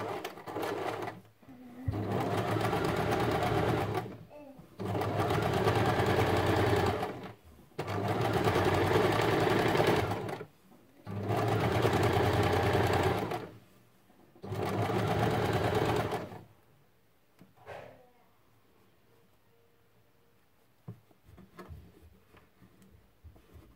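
A sewing machine stitches a fabric seam in five bursts of rapid, steady running, each a few seconds long with short pauses between, then falls silent with only faint handling clicks.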